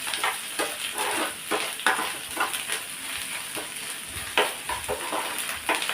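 Ginger garlic paste frying with mushrooms for a mushroom capsicum fry: a constant nearby sizzle broken by repeated spatula clicks and scraping stirs against the pan.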